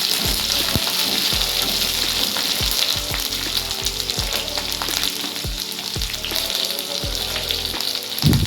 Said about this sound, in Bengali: এরপর আমরা দেবো এর মধ্যে ক্যাপসিকাম, আবার আমরা ভালো করে ক্যাপসিকামগুলোকেও পেঁয়াজের সাথে ফ্রাই করে নেব।